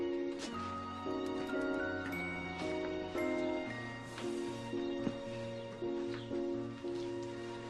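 Church bells ring from the Westerkerk tower, heard faint and distant as a slow, overlapping chime of bell strikes and lingering tones, with no talking.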